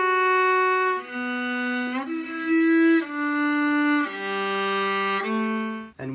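A solo viola plays a slow, sustained phrase from The Swan without vibrato. Long, steady bowed notes change pitch about once a second, loud and close, with no talking.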